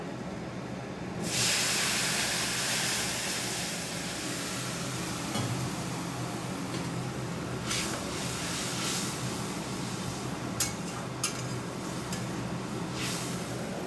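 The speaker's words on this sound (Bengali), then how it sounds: "মশলাটা অনেকক্ষণ আগে থেকেই ভাজছিলাম ভাজা হয়ে গেছে এবার জল দিয়ে দেবো" Hot water poured into a pan of long-fried spices bursts into a loud hissing sizzle that gradually settles into steady bubbling, close up, with no talking.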